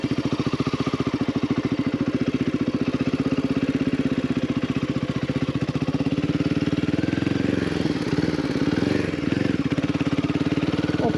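Royal Enfield Himalayan 450 engine running steadily while being ridden, a close, continuous mid-pitched thrum with a pulsing beat that wavers slightly near the end, with no talking over it.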